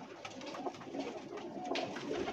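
Sheikha-breed pigeons coo softly and steadily in a loft, a low, faint murmur over a busy background hiss.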